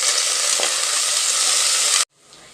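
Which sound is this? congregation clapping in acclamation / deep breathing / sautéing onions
sautéing onions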